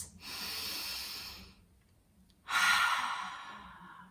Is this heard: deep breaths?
yes